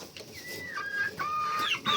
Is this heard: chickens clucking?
yes